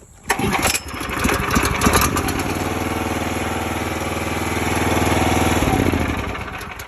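A Kohler Command Pro engine on a NorthStar 37-ton log splitter pull-starts after a sharp tug, catching quickly and settling into a loud, steady close-up idle.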